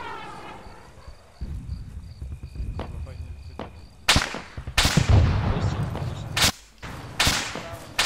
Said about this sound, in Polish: Strzał w naszym kierunku z 237.